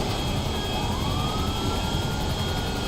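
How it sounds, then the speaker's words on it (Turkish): An airplane flies in Grand Theft Auto V, producing a loud, steady engine roar that holds without a break, with no talking over it. "Ha şimdi uçuracağım uçağı."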